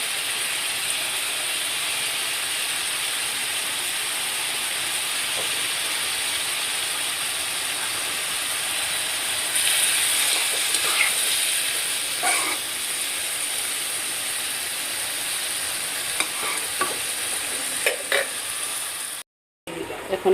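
Luna hilsa fish sizzling in hot oil in a pan, a steady close hiss running throughout with brief crackling spurts and spatters partway through.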